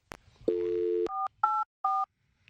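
Telephone tones sound while a call is placed: a short click, a steady low dial tone, then three brief two-pitch dialing beeps separated by short gaps, fairly quiet and with no talking.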